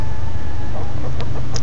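Chickens cluck in a run at the back of a barn, a few short, scattered calls over steady low rumbling background noise.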